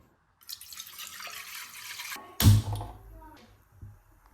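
Water poured into a pot for boiling noodles, a steady splashing rush that swells into a louder burst of pouring, close up and with no talking.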